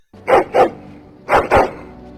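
A pet dog in the Dragon Age fantasy role-playing game barks twice, then pauses and barks twice again, with each pair of sharp woofs close and loud over a low game backdrop.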